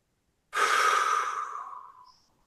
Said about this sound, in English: So I'm going to take one more deep breath.